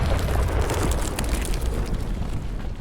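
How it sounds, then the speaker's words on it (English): A rock blast in the mining game Coal Mining Simulator, a loud rumbling explosion with a heavy low boom that sustains and slowly settles across the whole span. "So we managed to blow up our first rock."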